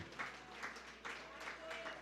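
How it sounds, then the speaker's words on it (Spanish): Faint, distant applause from a church congregation, a steady wash of clapping with a few louder swells, mixed with indistinct voices. "Dele un aplauso fuerte al Señor Jesucristo"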